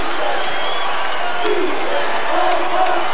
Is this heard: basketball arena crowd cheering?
yes